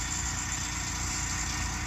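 A tractor engine idles steadily throughout, a continuous low rumble with mid-range drone and slight vibration, with no voices.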